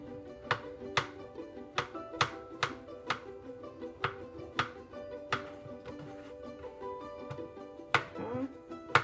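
A knife slices mushrooms for a pizza topping on a cutting board, giving about a dozen sharp, fairly regular taps close by with a soft background hum and no talk.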